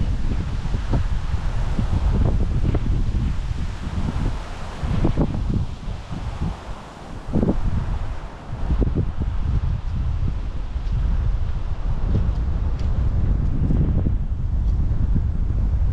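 Strong wind buffets the microphone throughout, a constant loud roar with gusting surges and brief lulls, no voices heard.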